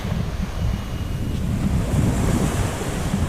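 Ocean surf rolls in at the San Blas islands off Panama, a steady, close wash of breaking waves with wind buffeting the microphone, continuous and fairly loud throughout with no voices.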